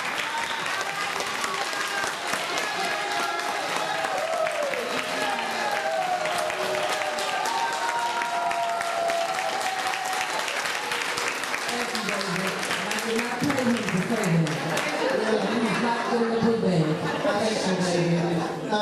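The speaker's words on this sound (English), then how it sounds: "Give this woman a round of applause." A crowd gives a long round of applause at a community book bag giveaway in Sauk Village, with sustained dense clapping, chatter and chuckles, and voices rising beneath it toward the end.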